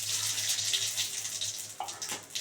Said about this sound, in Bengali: এবার ওই তেলে বন্ধুরা ফোড়ন দিচ্ছি আমি